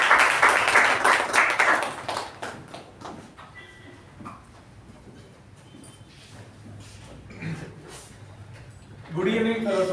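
Applause at a Toastmasters meeting, a loud burst of clapping at first that quickly thins into scattered claps and room noise before a voice begins speaking near the end.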